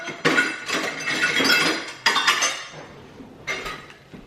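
Cabbage slaw dressed with lime juice and olive oil is shaken in a container, giving three bursts of rattling, clattering shakes, close and fairly loud, with no talking.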